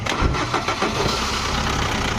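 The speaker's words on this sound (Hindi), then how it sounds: "फ्लाईव्हील में ऐसा स्टार्टर अटक के आवाज़ आ रहा है" A Tata Manza's starter motor grinds against the flywheel as the engine cranks and catches, giving a loud, close, rough churning noise with uneven bursts that settles into running.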